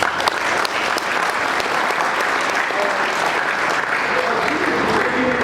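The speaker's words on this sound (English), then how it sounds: "Please, can we clap?" A tech conference crowd at DevFest claps loudly and continuously for several seconds, a dense wash of hand claps filling the room with no break.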